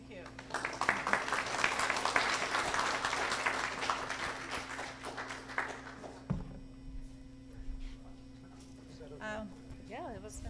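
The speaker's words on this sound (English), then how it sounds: "And applause." Lecture audience applauds, a dense wash of clapping lasting about six seconds under a steady room hum, then dropping away as a speaker talks.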